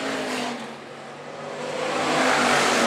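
IMCA Hobby Stock race cars roar around the dirt oval at Phillips County Raceway, a steady loud engine drone that dips briefly and then swells again as the pack comes closer.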